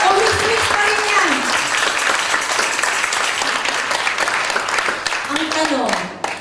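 Steady applause from a church congregation during a Sunday sermon, a dense wash of many hands clapping continuously, with voices intermittently rising above it.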